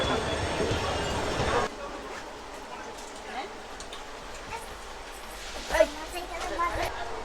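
A loud rush of a passing train for the first couple of seconds, then a quieter rumbling Indian railway station ambience with scattered clanks and murmuring voices.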